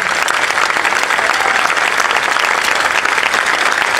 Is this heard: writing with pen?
no